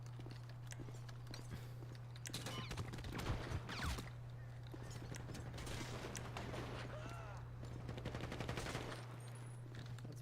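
Rapid gunfire bursts in a police roleplay video game, several sharp shots cracking over a constant low hum, with radio chatter and shouting around them.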